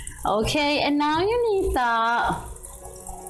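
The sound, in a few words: water running from tap into sink while washing dishes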